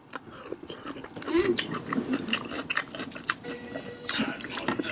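Crunchy pickled cucumber, radish or onion is bitten and chewed up close, with repeated crisp crunches and wet chewing in an irregular rhythm, faint murmuring around it.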